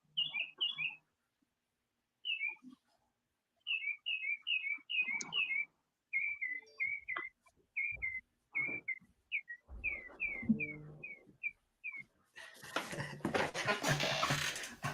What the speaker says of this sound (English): I could hear the birds from the bathroom.